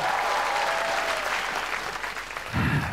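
Studio audience at a comedy club show claps loudly and steadily throughout, with a low voice or thud breaking in over the applause at the very end.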